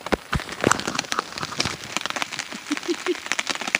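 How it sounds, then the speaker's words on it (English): Steady rain patters on a forest wild camp during a heavy downpour, a dense close hiss with scattered louder drips and drops striking a nearby surface, continuous throughout with no talking. "It's quite relaxing, therapeutic sitting here, listening to the rain"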